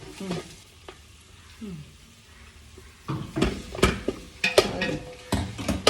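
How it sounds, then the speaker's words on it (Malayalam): Tomatoes stirred into frying biryani masala in a home kitchen pan sizzle close by, with a sharp, irregular run of utensil scrapes and clatters that grows busier and louder in the second half. "തക്കാളി ഇട്ട് കിണ്ടണം"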